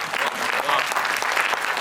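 Dense, steady applause from a large audience filling the whole moment, continuous clapping with no pauses and no talk over it.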